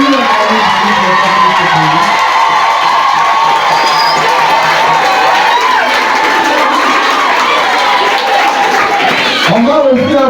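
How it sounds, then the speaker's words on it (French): Crowd at a Catholic school prayer and solidarity day cheers and applauds, with children shouting and whooping over scattered clapping, loud and continuous, a voice briefly rising near the end. "on va applaudir pour lui"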